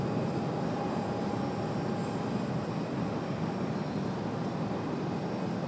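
A 33-year-old ATR turboprop airliner at Raleigh-Durham International Airport gives off a steady, unbroken engine drone at a moderate distance, even in level throughout with no talk.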